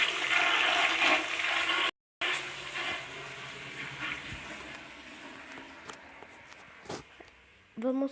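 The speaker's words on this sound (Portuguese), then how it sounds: "Eu vou dar descarga aqui." A toilet flushing amid game-session chatter, a rushing water gush that starts loud, then drains and fades over several seconds, with a brief cut and scattered short sounds near the end.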